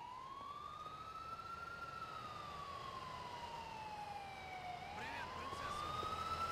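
Police car siren in the video game GTA IV: a wailing tone that rises and falls slowly, heard at a distance and fairly faint, without talk.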